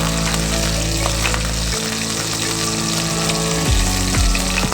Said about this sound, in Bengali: গরম হয়ে গেছে, এবার দিয়ে দেব ফুলকপি, লবণ,